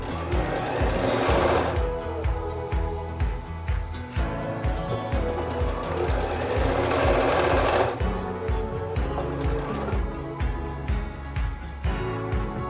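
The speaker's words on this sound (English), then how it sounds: "here I'm just sewing quite a few 4 patches together" A domestic sewing machine chain pieces four-patch quilt blocks with a steady, fast mechanical whirr and rhythmic needle clatter, close and continuous, pausing briefly and then starting up again, with no voices.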